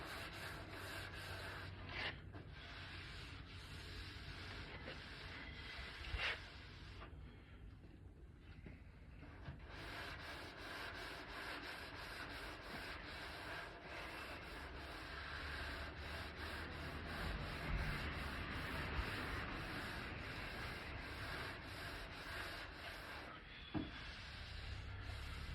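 A sanding block rubs back and forth over a wooden surface being prepared for paint, a steady close scratching that runs almost without pause, with a few brief breaks and knocks.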